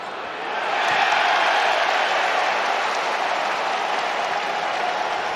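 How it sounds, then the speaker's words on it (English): A big rugby stadium crowd at the Premiership Final between Saracens and Sale Sharks applauds steadily, a dense, sustained wash of clapping that swells in after a brief quiet start and holds loud throughout. "Reed getting the applause."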